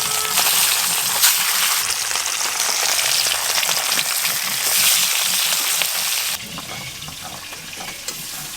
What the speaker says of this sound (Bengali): তেল গরম হয়ে গেছে, এখন মাছ ভেজে নেব।